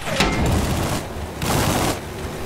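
Gunfire rattles in Battlefield 4, with two dense bursts of loud, crackling shots separated by a short lull. Explosive booms and battle noise fill the mix.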